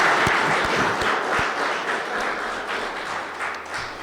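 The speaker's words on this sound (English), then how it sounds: "So Jack Shoka, you deserve a round of applause." An audience applauds at a ribbon cutting for a new election center, with a few sharp claps at the start swelling into sustained, fairly close clapping from a modest crowd.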